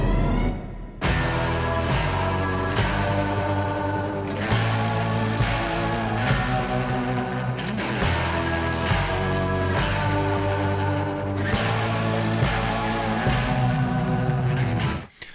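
A recording of a song plays back, a dense full-band rock mix with driving rhythmic accents, continuous and loud after a brief quieter opening, with no talking over it.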